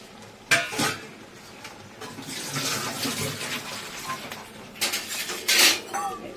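Water pours into a pot of prawn biryani with sloshing and splashing, and metal clinks against the pot near the start and again toward the end.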